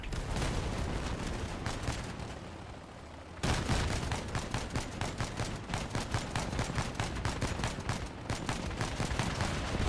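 Grenades bursting in the vehicle-combat game Crossout, a rapid rattling chain of sharp blasts that pauses briefly, then resumes louder and keeps hammering without letup.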